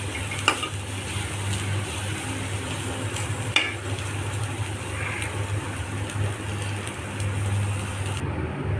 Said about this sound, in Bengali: এখানে শুটকিটাকে ভালো করে ভেজে নিব।